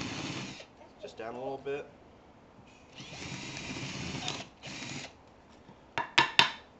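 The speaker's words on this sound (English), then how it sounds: "we're going to countersink so that our screws can countersink in the wood a little bit" A power drill countersinks screw holes in wood for a cigar box guitar, several short whirring bursts close by with a person talking in between and a few sharp clicks at the end.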